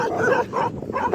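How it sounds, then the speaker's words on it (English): A group of shepherd dogs barks and yips in quick bursts while chasing a cyclist riding against the wind, the barks close and loud with no talk. "a group of shepherd dogs started chasing me."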